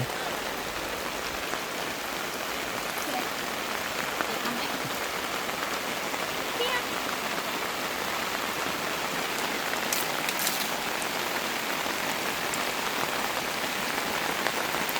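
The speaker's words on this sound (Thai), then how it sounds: "แต่ฝนนะไม่มีลม" Steady rain falls without wind at a riverside campsite on the Khwae Yai River in Kanchanaburi, a dense, even hiss of drops on surfaces lasting throughout with no voices.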